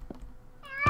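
A Minecraft cat gives a short, close meow near the end, with a fainter earlier mew and quiet background otherwise.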